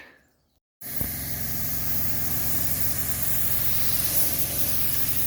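Clear coat hisses from a spray gun onto the door of a 1980 Mercedes 300SD, starting abruptly after a quiet moment and then running as a loud, steady close-up spray with a low compressor hum beneath.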